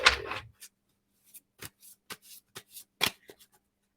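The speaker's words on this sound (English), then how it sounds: "Do one more good shuffle." A quick burst of card shuffling up close, followed by a series of short, sharp card snaps and taps in an uneven rhythm.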